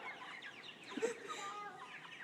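Backyard chickens cluck softly with a few short calls, faint and close, with no talk over them.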